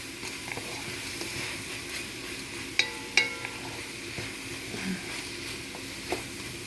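Shrimp and noodles stir-frying in a pan with dark soy sauce, a soft, steady sizzle with a few sharp clinks and scrapes from stirring.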